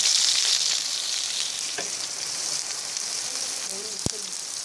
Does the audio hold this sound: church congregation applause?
no